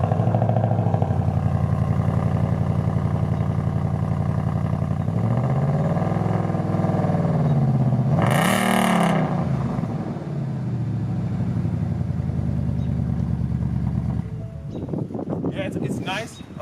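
A 2017 Mustang RTR Spec 2 V8 idles with a steady, deep exhaust rumble, briefly revving twice in the middle before settling back; the tone stays moderate rather than loud, with a short clatter near the end.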